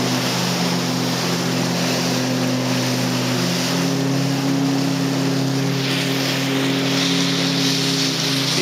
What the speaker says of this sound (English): Here's a fisher charter over here heading out.